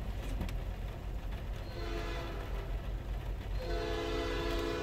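CN freight train locomotives roll into Ladysmith as a steady, loud rumble with a sustained horn-like tone rising toward the end, no voices present.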